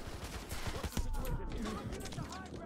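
Enemy gunfire from the MW2 campaign crackles in dense, overlapping bursts across an open field, fairly quiet and mixed with other battle noise and voices.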